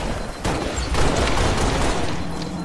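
Gunfire from the Halo Reach video game, a dense, sustained burst of shots and booms that stays loud and continuous throughout, with no talking.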